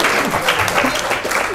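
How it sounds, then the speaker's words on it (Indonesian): An audience claps at a religious lecture on the Quran and modern education, producing a short, loud, dense burst of applause close by with some voices mixed in. "Tepuk tangan."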